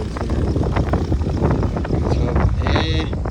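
Cool wind blows across a hilltop viewpoint near Dharan, buffeting the microphone in a continuous loud, low rumble with gusty swells throughout.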